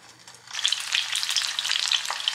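Embutido, a Filipino meatloaf, sizzles in hot vegetable oil in a home kitchen, starting quiet and then breaking into a loud, steady crackle that runs without a pause.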